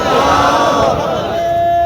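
A crowd at an Islamic religious gathering shouts back the Takbir chant in unison, a brief, loud, dense burst of many voices.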